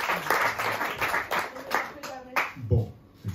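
At a Marseille comedy club, the crowd breaks into scattered rhythmic hand clapping for a comedian, a few distinct claps fading as a voice starts talking near the end.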